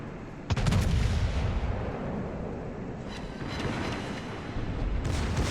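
Battleship main guns fire in World of Warships, aboard the Japanese IJN Amagi, a Tier 8 battlecruiser. A loud booming salvo cracks out early, followed by continuous rumbling gunfire and another heavy burst near the end.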